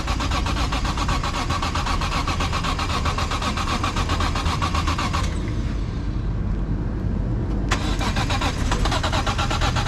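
BMW E46 M3 engine cranking over and over as it struggles to start, a fast rhythmic starter churn close up, briefly dropping away near the middle before resuming.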